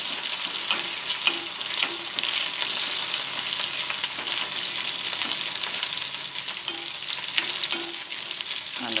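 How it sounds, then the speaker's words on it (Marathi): Peanuts and onion fry in hot oil for fried rice, giving a continuous bright crackling sizzle up close, with light stirring taps scattered throughout and no talking. "शेंगदाणे तळले ना तेलामध्ये छान लागते टेस्ट."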